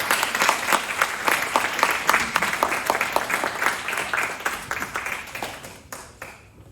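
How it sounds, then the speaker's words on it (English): A crowd gives sustained applause to the honoree at a Citizen of the Year ceremony, the dense clapping holding steady before thinning and fading out near the end. "let's give him one more round of applause for all he's accomplished"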